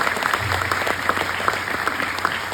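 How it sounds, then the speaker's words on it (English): An audience at a tech festival motivational talk claps steadily for the whole short stretch, a dense even patter of many hands in a hall. "Your claps will give me the positive feedback."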